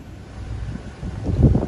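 Gusty wind on a dark, drizzly day in Provincetown, buffeting the microphone in low rumbling surges that build louder toward the end of a short burst.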